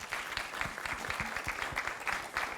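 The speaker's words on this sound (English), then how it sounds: "As females, clap for that." Moderate applause from an audience at a mental health discussion, steady and fairly close, with a voice speaking over part of it.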